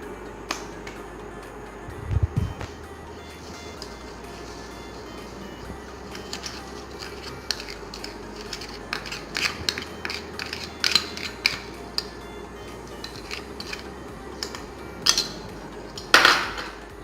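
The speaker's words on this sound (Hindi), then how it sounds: "अब हम इसमें पिसी हुई चीनी मिलाएंगे।" Powdered sugar stirred into beaten eggs in a bowl for a cake rusk batter: a long run of faint clinks, taps and scraping rattles from a utensil against the bowl, with a few louder knocks near the end.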